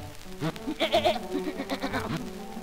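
A goat bleats in a 1932 cartoon, a wavering, nasal call in several pulsing bursts that rises and falls, heard clearly and alone.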